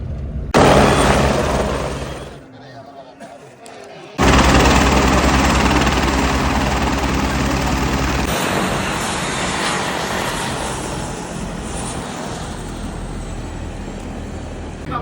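A loud, steady helicopter engine roar with broadband rushing noise at the Vaishno Devi helipad, briefly dropping away before surging back and holding.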